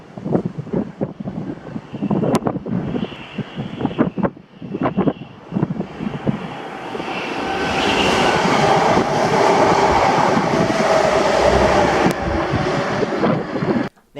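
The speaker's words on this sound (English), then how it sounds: "This was the delayed 1621 2F05 ScotRail service to Dalmuir from Cumbernauld." A delayed ScotRail passenger service from Cumbernauld to Dalmuir passes close by, first as rhythmic wheel clatter and then as a loud, sustained roaring rush with wind buffeting the microphone, ending abruptly.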